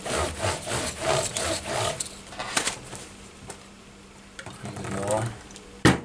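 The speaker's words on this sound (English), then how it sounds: "So wiping that off with a clean rag." A rag rubs black residue off the body of a vintage 1960s Hagstrom guitar, with soft close scrubbing strokes in bursts while someone talks over them, ending in a sharp knock.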